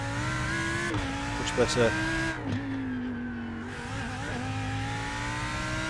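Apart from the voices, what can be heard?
Lamborghini Huracan GT3 race car accelerating at Long Beach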